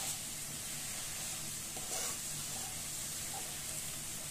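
Chopped cholai greens fry in a pan with a steady, close sizzle and hiss, while faint stirring scrapes come and go over the constant crackle.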